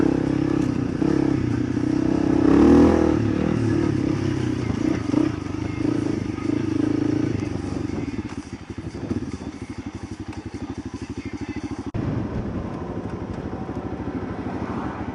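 A Honda CRF300L Rally motorcycle on an off-road ride with muddy trail sections, its single-cylinder engine chugging and revving steadily throughout, with clattering and wind noise and no talking.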